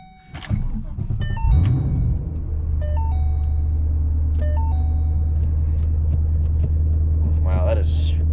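A Ford GT500 V8 fires up and settles into a loud, steady, deep idle rumble, with beeping chimes from the car and a brief whirring sound near the end.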